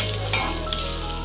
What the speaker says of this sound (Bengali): নাড়িয়ে চাড়িয়ে নেবো এপিট ওপিট করে,